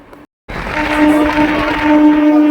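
A Katwa–Ahmedpur MEMU train rolls slowly along a curved line, a steady close rumble with a sustained motor hum rising after a brief silent gap at the start.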